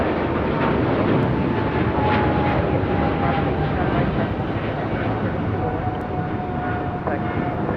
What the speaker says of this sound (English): There's the flight heading to London Heathrow.